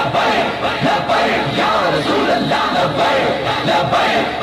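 A large crowd at a Labbaik rally chants slogans in unison, a loud, dense roar of many voices rising and falling in rhythm throughout.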